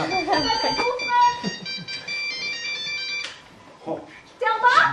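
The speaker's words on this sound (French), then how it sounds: "Téléphone!" A telephone rings in a French domestic scene, its repeated electronic trill sounding under and between people's voices, which talk over much of it.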